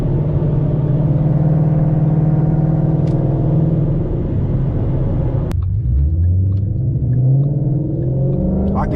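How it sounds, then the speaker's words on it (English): An automatic car engine straining in low gear, a loud droning rumble holding steady, then a sudden shift with the pitch dropping and climbing again as the engine keeps labouring. "I can tell it's straining because I know the sound of my car"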